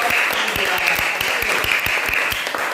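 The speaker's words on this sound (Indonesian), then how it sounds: "Tepuk tangan buat kelompok 3." A classroom of students applauds a student group after their presentation, with dense, steady clapping throughout and a voice faintly audible beneath it.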